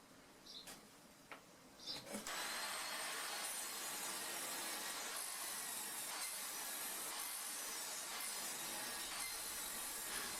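Table saw cutting wooden frame slats on a crosscut sled jig in a workshop, a few light knocks followed by a loud, steady whining hiss of the blade that runs on for the rest of the clip.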